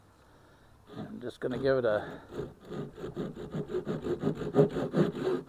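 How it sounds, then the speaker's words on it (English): A hand saw cuts through the bottom of a wooden walking stick in quick, even back-and-forth strokes. Someone talks briefly before the rhythmic rasping begins, close by. "get my handy dandy saw here"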